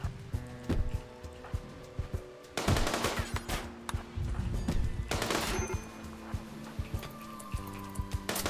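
Rapid turret gunfire in a video game, loud volleys of automatic shots in several bursts with mechanical clatter and game sounds between them.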